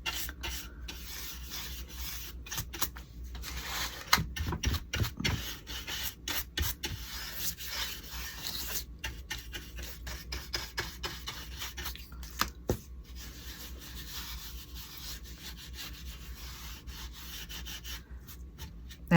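A brush works brown Jolie finishing wax over a thrifted item, making a close, continuous dry rubbing and rasping with short irregular strokes and brief pauses.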